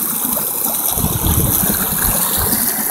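A local stream flows outdoors with a steady rushing babble and low gurgling surges, loud and close, with no voices over it.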